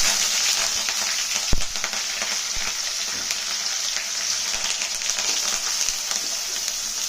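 Mustard seeds, green chillies, coriander stems, curry leaves and onions frying in oil for a cabbage and chana dal curry, a constant bright sizzle with occasional sharp clatters of stirring, close up and without talk.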